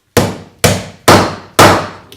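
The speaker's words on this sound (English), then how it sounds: "just try to hammer everything in with this" Bushings are hammered into a Kawasaki ZRX 1100 motorcycle fork tube with a makeshift driver, giving four loud, close metallic clangs at an even pace, each ringing briefly before the next blow.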